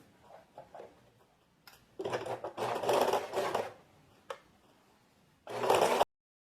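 Sewing machine stitching a seam on tailored trousers, close stitch bursts that stop and start: a short run, a longer burst of about two seconds, and a final burst near the end, with quiet handling between.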